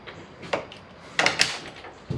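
A door in a refurbished camper bathroom is handled up close, giving a few quiet knocks and a soft thump as it closes, with small clicks and rattles in a quiet room.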